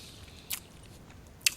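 Two short crunchy bites into hot, crispy fried chicken, one near the start and a sharper one near the end, close and fairly quiet against a soft background.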